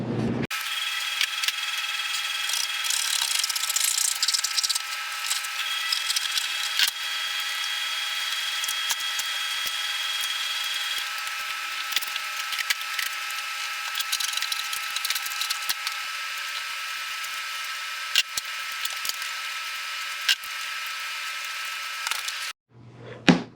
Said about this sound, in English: Here's my hacksaw.